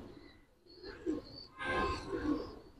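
Pigeons in a loft give soft, low cooing calls, a few short murmuring phrases at close range with a faint higher chirp in the background.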